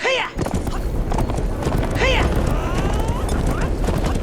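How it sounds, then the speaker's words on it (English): Horse galloping in an Attack on Titan VR fangame, rapid clip-clop hoofbeats in a steady rhythm with a couple of whinny-like calls, close and fairly loud. "you can make the horse go faster by hitting a certain"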